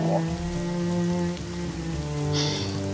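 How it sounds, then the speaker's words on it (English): Heavy rain pours down steadily in a fantasy video game world beside a lake, the broadband hiss running continuously under a sustained game music bed. "A downpour."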